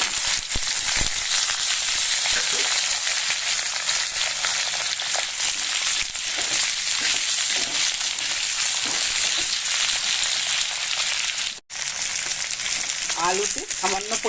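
Long, thin-sliced potatoes fry in hot oil with a steady, loud sizzle throughout, broken by occasional stirring scrapes and a brief drop near the end.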